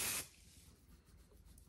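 Hair product spray from a can gives one short, sharp hiss up close, followed by quiet room tone.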